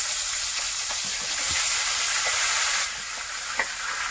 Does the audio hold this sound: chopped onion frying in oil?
yes